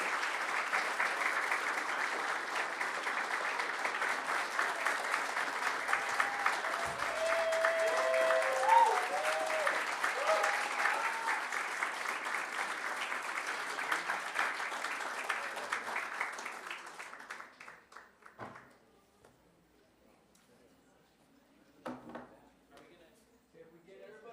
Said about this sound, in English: let's give them another wonderful round of applause